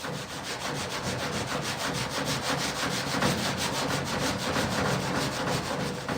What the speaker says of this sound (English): So I'm using a paint stripper and just some green Scotch-Brite.